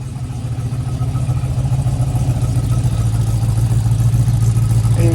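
A 1967 car engine idles after a cold start, giving a steady, close, low rumbling drone that holds even throughout with a slight rise in loudness and no speech.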